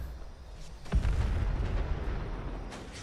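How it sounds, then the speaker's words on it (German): A deep boom erupts about a second in, followed by a low rumbling roar that slowly fades, as a car explodes in the video game Fallout 76. "Ich glaube, das Auto explodiert gleich"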